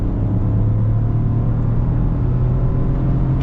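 Ford Bronco Sport with its 1.5-liter three-cylinder engine pulling hard under acceleration, a steady loud low drone and rumble heard from inside the cabin with no talking.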